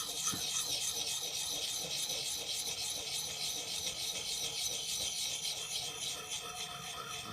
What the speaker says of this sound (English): It's really no different than freehand sharpening, except that the angle is being controlled for you